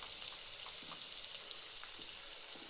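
Ridge gourd frying in a pan with a soft, steady sizzle and scattered small crackles and pops, fairly faint and continuous, with no one talking.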